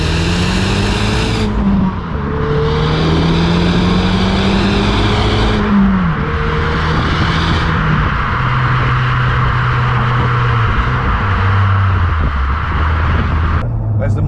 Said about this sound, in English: the Mk1 exhaust, even the standard one, it's got a nice grumble to it, it's got a nice kind of burble